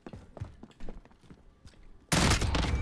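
FAMAS rifle fire in the video game Modern Warfare, starting as scattered, softer shots before a loud, dense burst of rapid automatic gunfire near the end.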